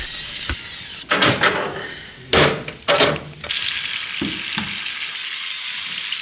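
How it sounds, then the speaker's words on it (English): Potatoes sizzle in an oven with a steady frying hiss, broken by a few loud knocks and clatters of wood and metal nearby, with no voices. "I can smell and hear the potatoes steaming in the oven."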